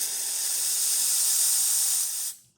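Steam wand on a Pasquini Livia 90 espresso machine hissing steadily and loudly for about two seconds, then cutting off abruptly into silence.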